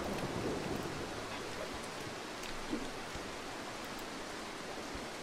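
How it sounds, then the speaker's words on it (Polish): Steady rain and a soft thunder rumble in the stealth video game Mark of the Ninja, a continuous wash of rain noise with a faint low rumble, no voices over it. "Będzie grzmot, będzie błysk,"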